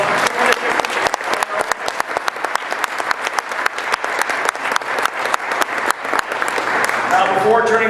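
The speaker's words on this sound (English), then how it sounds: "let's give the Blenkers a big round of applause" A big round of audience applause at a United Way charity victory celebration, dense and loud throughout with steady clapping, a voice faintly emerging near the end.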